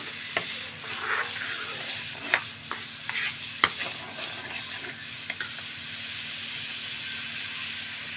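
Boiling coconut milk is stirred in a pan for peanut butter and chocolate biko, a soft bubbling simmer broken by sharp scrapes and clicks of the spoon at irregular intervals, close and fairly quiet.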